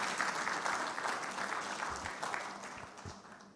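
A room full of people claps steadily, a dense burst of applause that holds at an even level throughout.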